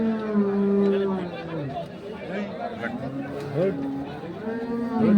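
A crossbred bull at a village cattle market in Kaharol, with a low moo rising briefly amid steady close talk and crowd chatter.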